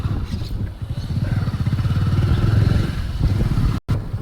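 A motorcycle engine starts and runs steadily at close range in a village setting, its low rumbling idle pulsing evenly for several seconds before a brief cut.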